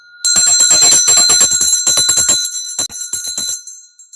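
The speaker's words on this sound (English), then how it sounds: "I'm going to ring the bell because it's a miracle." A hand bell rings rapidly and brightly, shaken in a fast run of strikes for about three seconds before trailing off, close by.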